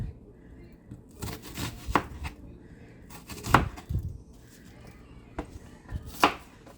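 Knife chopping leek on a cutting board in a home kitchen, a few spaced, firm thuds with crisp slicing between them, close up and unhurried.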